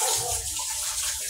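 Water poured into a cooking pot for an outdoor meal before grilling, a steady close splashing gush that runs unbroken for about a second.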